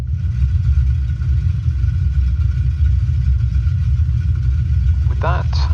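The radial engine of a de Havilland Beaver in a flight simulator drones in a steady loud low rumble throughout, without clearly winding down, and a voice speaks briefly near the end.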